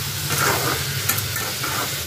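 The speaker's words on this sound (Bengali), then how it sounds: "মূলোটা যতক্ষণ ভাজা ভাজা হচ্ছে বন্ধুরা" Radish pieces fry in a pan with a continuous close sizzle and soft stirring scrapes, steady throughout.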